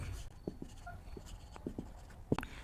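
A pen writes by hand on paper during an accounting lesson, making faint, close scratchy strokes and small taps in an irregular rhythm over a quiet background.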